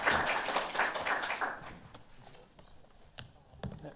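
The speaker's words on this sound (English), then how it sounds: "Let's give the panelists a round of applause" Audience applause for conference panelists, with dense clapping from many hands loud at first, then thinning out to a few scattered claps.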